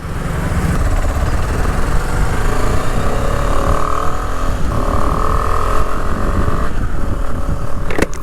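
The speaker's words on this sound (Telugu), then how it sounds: "లో RPMస్లో నుంచి కూడా ఒక గ్రంట్ సౌండ్ అనేది వస్తుంది ఎగ్జాస్ట్ నుంచి" A KTM Adventure 250 motorcycle engine runs loud and close, its exhaust giving a deep continuous grunt that rises and falls in pitch as it is revved and ridden, with no speech.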